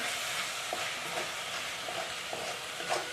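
Pasta boiling in water in a pan, being stirred: a constant bubbling hiss with a few soft scraping clinks of a utensil at irregular moments.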